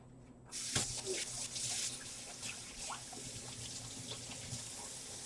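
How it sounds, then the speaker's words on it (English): Tap water starts running and keeps flowing into a sink while hands are washed beneath it, a steady close splashing hiss with small shifts as the hands move, with no talking. "I'm going to wash my hands"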